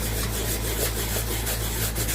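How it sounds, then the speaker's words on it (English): Sandpaper rubs steadily over painted wood, a continuous close, even rasping scrape with no pauses and no voices. "when you run the sandpaper over, it kind of gives them both the same sheen"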